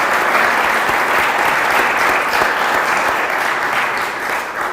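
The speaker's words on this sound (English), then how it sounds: "let's give Joseph McCarthy a big round of applause" Dense, steady applause from an audience for Joseph McCarthy, loud and close, sustained throughout without any talk.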